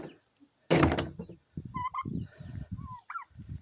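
A sudden loud thump is followed by turkeys gobbling in short bursts, with a few high chirping calls and brief pauses between.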